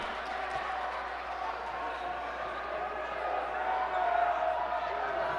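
A loud crowd roars and cheers in a college gym during a close late-game stretch of a Connecticut College vs Bowdoin men's basketball game. The noise is a steady, dense wash that swells slightly near the end, with a commentator talking over it.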